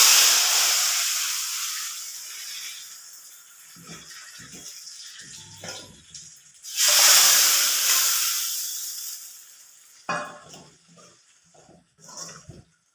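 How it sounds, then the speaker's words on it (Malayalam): Fried mustard seed tempering is poured into a taro masala curry, setting off a loud burst of hissing sizzle that fades, followed by a second strong sizzle and softer spatters. "ഈ കടുക് വറുത്തത് ഇതിലോട്ട് ഒഴിച്ചു കൊടുക്കും"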